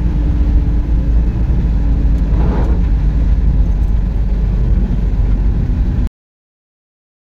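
A Tata Ace Gold small commercial vehicle drives at about 60 to 65 km/h on a Delhi road in the rainy season, giving a loud, steady engine and road rumble with wind and tyre hiss from inside the cab, then cutting off abruptly.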